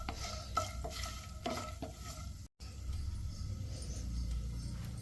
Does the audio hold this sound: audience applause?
no